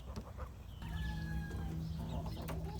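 Brahma chickens cluck and murmur close by, with a soft drawn-out note among them, over a low steady background hum.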